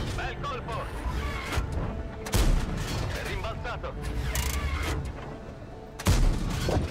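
Tank gunfire from World of Tanks, with heavy booming cannon shots, two especially loud ones, over continuous battle rumble, while a voice talks throughout.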